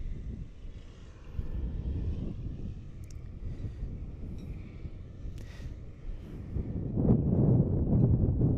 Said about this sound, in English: 777-300 from the Middle East.